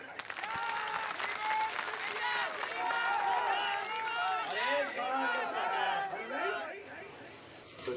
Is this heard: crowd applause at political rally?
yes